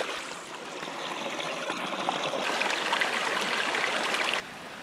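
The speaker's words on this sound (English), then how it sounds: "We can hear some water." Steady rushing and trickling of a stream of running water near a coastal campsite on the Inside Passage, continuous and fairly close, swelling slightly before easing off toward the end, with no voices.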